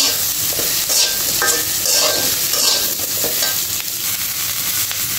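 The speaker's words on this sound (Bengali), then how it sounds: "চেরা কাঁচা লঙ্কা ভালো করে নাড়াচাড়া করে নেব।" Slit green chillies fry in a pan of hot oil, a loud steady hiss and crackle close by, with intermittent stirring scrapes and no talking.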